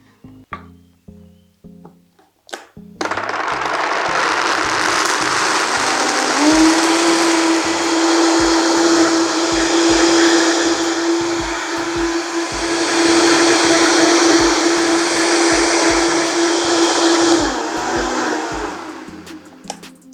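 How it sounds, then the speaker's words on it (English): A blender whirs loudly as it purees a creamy vegan pumpkin mixture, starting after a few short clicks and then running steadily for most of the clip with a sustained motor tone, no voices over it. "Just stop and start your blender, check it when it's stopped, check that the actual mixture is really creamy."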